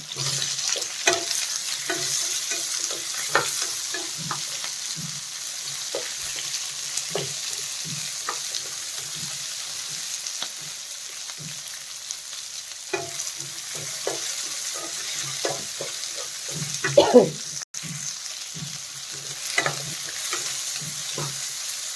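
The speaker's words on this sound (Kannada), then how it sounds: "ಹಸಿಮೆಣ್ಸಿನ್ಕಾಯಿ ಫ್ರೈ ಆದಮೇಲೆ ಈಗ ಈರುಳ್ಳಿ ಹಾಕ್ಕೋತಾ ಇದ್ದೀನಿ." Onions and green chillies frying in a pan for a soya chunks gravy, a steady close sizzle with scattered stirring clicks and scrapes of the spoon running throughout, no voices.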